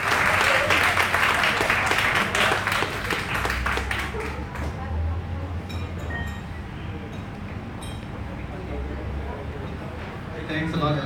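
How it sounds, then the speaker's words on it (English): An audience claps at an album launch event, with dense applause for the first few seconds that thins into scattered claps and a low murmur of crowd voices. "Clap, guys, come on."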